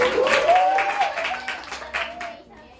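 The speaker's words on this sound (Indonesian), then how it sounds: "Raisa, boleh kasih tepuk tangan dulu buat" A small classroom of students claps in a high school sociology micro-teaching lesson, with scattered, uneven hand claps under a voice that talks over them and fades out by the end.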